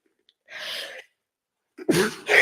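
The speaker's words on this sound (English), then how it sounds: "I can't believe I just sneezed" A single person sneezes: a sharp inhale, a brief pause, then a forceful burst of air.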